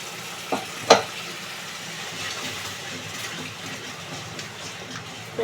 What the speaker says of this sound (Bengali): এটাকে ভালোভাবে মশলাটা কষিয়ে নেব